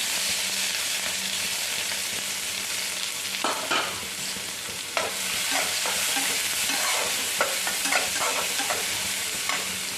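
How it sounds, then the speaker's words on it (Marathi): Chopped garlic and onion frying in oil in a pan for a tempering: loud, continuous sizzling with intermittent scraping strokes of a spatula throughout, close up. "कांदा चांगला लावायचा फ्राय करून घ्यायचा"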